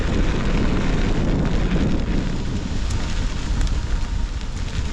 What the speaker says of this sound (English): Against the wind now.